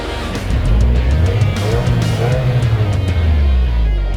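A 2023 Subaru WRX with a factory sports exhaust revs on a dirt race track, its engine rising and falling in a loud, gravelly note with a deep burbling exhaust throughout, close and continuous.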